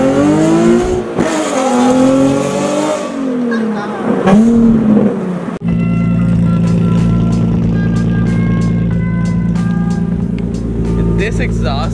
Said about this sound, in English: This exhaust just sounds so mean and just like a dragon